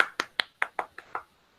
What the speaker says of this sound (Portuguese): Tinha que ser aplaudido, ó.